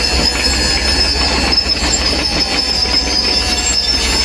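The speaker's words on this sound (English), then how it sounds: "when you tip the dump bed" A dump trailer bed tipping up on a trial run gives a loud, continuous mechanical drone with high metallic squealing and whining tones, steady throughout, with no voices.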